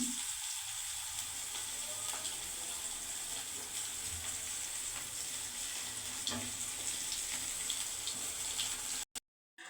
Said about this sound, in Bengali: আমি এক পিস করে এইভাবে সবগুলো ভেজে নেবো কচুরি